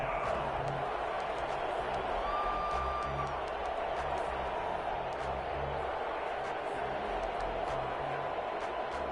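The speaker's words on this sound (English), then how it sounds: "The crowd getting into it as we come up on a big 3rd down" Steady roar of a football stadium crowd cheering ahead of a big third down, a broad continuous wash of noise with a few faint whistles and shouts above it and no talk standing out.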